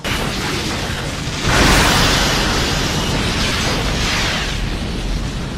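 A sudden heavy blast from a plasma cannon shot at a rock in the Cowboy Bebop anime erupts with a roaring burst of noise, then rumbles on in a sustained, crackling wash that slowly tapers off.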